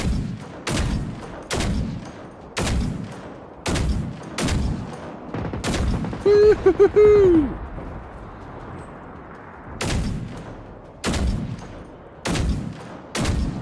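Gunfire rings out in the video game Generation Zero: loud single shots at steady intervals, close by, broken by a brief burst of a rising mechanical whine, with the shots resuming afterward.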